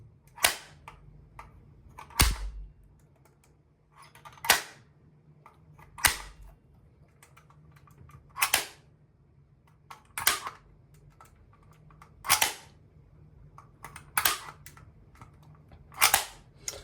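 Loud, sharp relay clicks from a Tomzn automatic transfer switch snap roughly every two seconds, each a single hard mechanical clack, with near silence between them.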